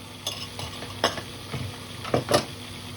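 A utensil stirs vinegar sauce for pork chops with capers and honey, giving a few scattered scraping and clinking strokes, close but fairly soft over low background hiss.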